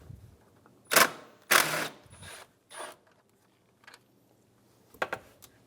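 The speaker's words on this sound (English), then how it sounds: "Remove the 2 10mm bolts for the fan assembly." A ratchet removing two 10mm bolts from the fan assembly of a 2010-2015 Lexus RX350 during alternator replacement, several short bursts of rapid ratcheting clicks separated by pauses, close and fairly loud.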